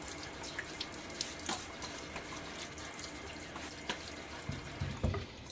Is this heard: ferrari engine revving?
no